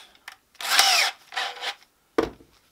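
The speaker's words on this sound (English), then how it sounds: "We're going to drill up." A power drill with a 3/8 bit bores upward at an angle into a wooden block to make a carpenter bee trap, in several loud, close bursts of whining, grinding spin with short pauses between.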